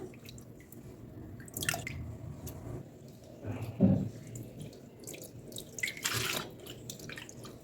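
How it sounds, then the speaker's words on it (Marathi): Water sloshing and dripping as grated potato is rinsed by hand in a bowl to remove starch for potato chivda, with intermittent splashes and squelches. "मी परत एकदा हा किस धुवून घेते"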